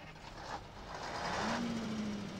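Truck driving slowly in Farming Simulator 19, a steady engine rumble with a faint rising tone as it rolls forward, no talk.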